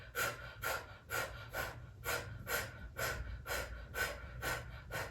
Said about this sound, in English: Inhale, and then pump the breath out.